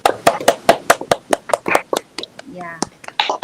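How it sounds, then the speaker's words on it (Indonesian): Classroom applause for a student named Putra and his group, a rhythmic series of sharp, fairly loud claps in unison, with a short voiced sound partway through. "Tepuk tangan juga untuk Putra dan kelompoknya"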